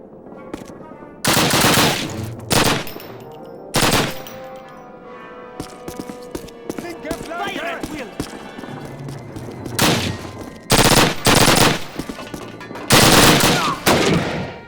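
Loud bursts of automatic gunfire and single shots erupt repeatedly in a Call of Duty battle at the Warsaw railyard, heavy volleys at irregular intervals over a steady game ambience, with no speech.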